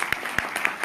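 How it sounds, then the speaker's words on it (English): Short burst of audience applause at a hospital community service award ceremony, a dense wash of clapping with a few sharper individual claps standing out, moderately loud and continuous through the moment. "Let's give a huge round of applause for that."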